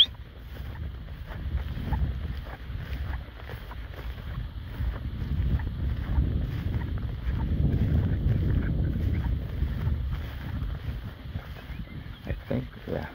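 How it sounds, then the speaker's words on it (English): Wind blows steadily across the microphone outdoors, a continuous low rumbling buffet that swells and eases for several seconds. "Wind's coming across from right to left."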